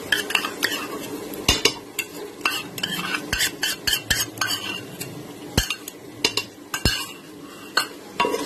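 Coconut paste stirred into cooked onion and tomato in a pan for a crab curry, with frequent sharp spoon clinks and scrapes against the vessel over a low sizzle, irregular and close.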